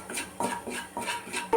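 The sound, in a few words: sautéing spiced mixture in a pan for egg biryani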